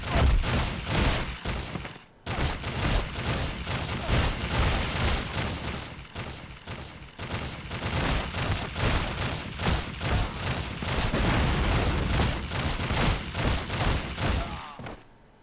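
Sustained gunfire from Fallout: Brotherhood of Steel on PS2, a dense fusillade of rapid shots and thuds running almost without pause for the whole stretch, loud and close, breaking only briefly once.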